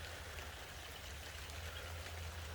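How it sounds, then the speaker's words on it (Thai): Steady rain falls outdoors on a farm, a constant soft hiss and patter with a low rumble beneath, faint and even throughout with no voices. "ฝนตกมาแล้วครับ"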